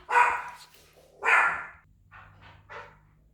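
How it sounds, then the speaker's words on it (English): A dog barks at a delivery arrival, two loud sharp barks followed by three quicker, softer yips, heard indoors at close range without talk. "my fearless dog was telling me Amazon was here"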